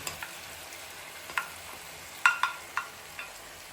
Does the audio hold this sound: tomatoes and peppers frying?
yes